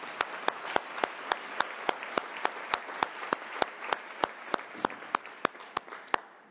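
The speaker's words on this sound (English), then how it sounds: "this really is worth a big round of applause." A single person claps slowly and evenly at a formal anniversary ceremony, about twenty-four sharp, close claps over a quiet, slightly noisy background.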